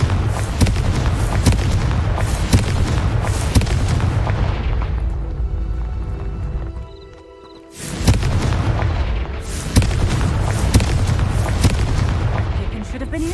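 Repeated booming fiery blasts from the Confringo explosive spell in Hogwarts Legacy, dense heavy explosions rumbling loudly in a near-continuous barrage, broken by a brief quieter gap midway before the blasts resume.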